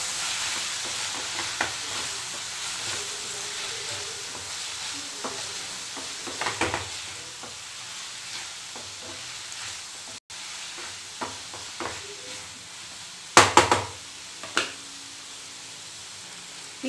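Coriander powder and spices are stirred into a capsicum curry in a hot pan: a continuous oily sizzle with repeated spoon scrapes and clanks against the pan, close and clear.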